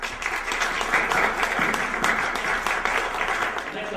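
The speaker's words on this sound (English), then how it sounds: "Please join in thanking them with a round of applause." An audience at a club's annual meeting gives a round of applause, a dense, sustained clatter of many hands clapping together at moderate loudness.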